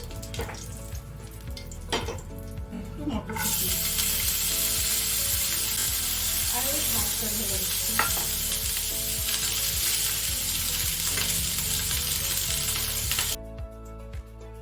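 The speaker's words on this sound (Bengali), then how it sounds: "এই যে জিরে দেখুন ক্র্যাক করতে শুরু করে দিয়েছে শুকনো লঙ্কা দিচ্ছে" Cumin seeds crackle and dry red chillies fry in hot oil for jeera rice, giving a loud, continuous sizzle with scattered pops and spoon scrapes that cuts off abruptly near the end.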